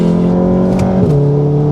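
An MK7 VW Golf R pulls uphill under acceleration, a loud, close engine drone rising steadily in pitch, briefly dipping around a gear change.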